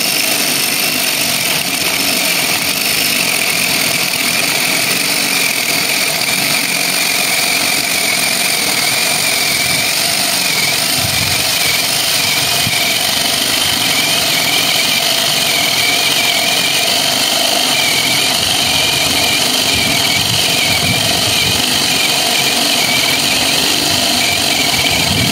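A LUDYVI BL150 cordless drill boring into a backing board, a continuous close motor whine with grinding, uneven load changes over about 25 seconds, no voices.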